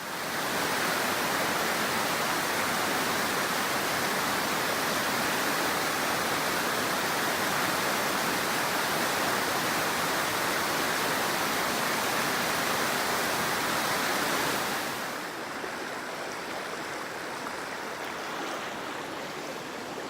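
Rushing water of Jennings Creek on the Appalachian Trail pours in a loud, continuous broadband roar close by, easing slightly toward the end.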